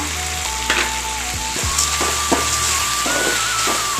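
Steady frying sizzle of onions and tomatoes sautéing in a pan with occasional scraping stirs, close and continuous, no talking.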